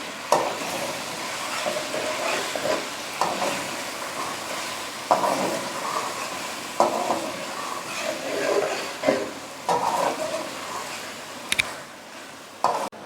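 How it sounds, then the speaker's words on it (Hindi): Ginger garlic paste fries in a pan with a steady sizzle, broken by repeated scraping strokes as it is stirred, close and fairly loud. "मैं थोड़ा सा भून लूँगी।"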